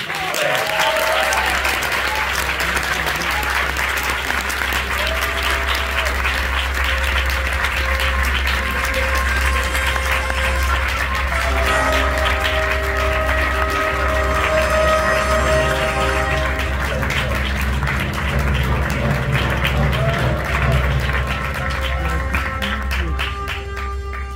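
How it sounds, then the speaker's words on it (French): A large festival audience at a fantasy film festival closing ceremony applauds the jury, a dense, continuous roar of clapping held for over twenty seconds, with music and a faint voice underneath. "Je vais vous demander d'applaudir Nicolas Mokriev, Manu Dacos, qu'on a déjà vu, et Madame Katharina Koumets"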